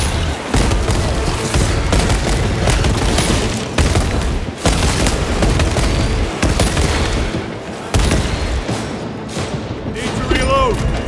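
Frag grenade blast and continuous heavy gunfire in Space Marine II on maximum difficulty, loud and dense throughout with repeated booms, rapid bursts and battle clamour, ending in a few sharp high-pitched whines.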